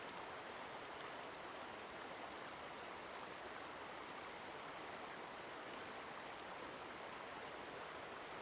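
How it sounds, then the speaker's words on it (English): Stream water crashes against rocks in a steady, even rush that flows on unbroken throughout, soft and moderately distant, with no voices. "Focus on the crashing of water against rocks"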